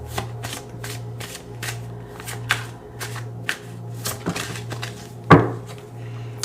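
Tarot cards slipping and snapping off the top of a deck in a reading, a run of soft, quick card flicks and shuffles up close over a steady low hum, with one sharper slap near the end.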